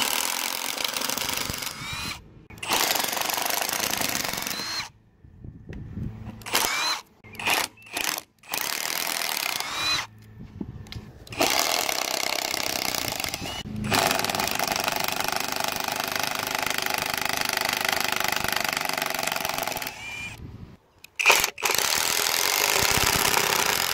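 A Kimo brushless impact driver hammers away in loud, dense rattling bursts of varying length, broken by short silent pauses and a few quick stop-start triggers, heard close up with no talk.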